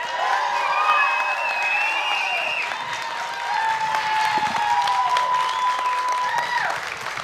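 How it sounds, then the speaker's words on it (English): A comic convention crowd applauds and cheers loudly for a guest's stage entrance, steady sustained clapping with whoops and whistles running throughout. "make the biggest noise possible for the one and only Khary Payton"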